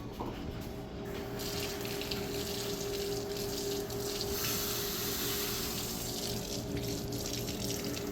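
Cold water runs from a kitchen tap into a measuring cup, a steady close hiss and splash that continues without a break and with no voices.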